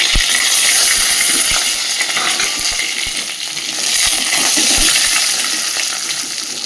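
Crushed garlic and green chilies fry in a hot pan with a loud, steady sizzle and hiss, broken by a few faint clinks and pops, with no talking.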